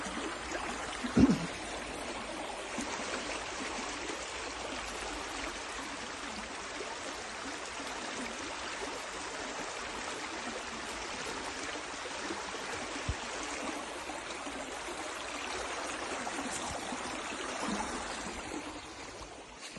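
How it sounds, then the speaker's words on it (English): A river flows steadily outdoors, giving a broad, continuous rushing wash that stays even and fairly close throughout, with one brief bump near the start and no talking. "River there, look."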